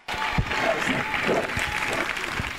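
A church congregation claps in praise during an evangelical testimony service, producing a steady, dense wash of applause that lasts throughout, with a voice speaking over it.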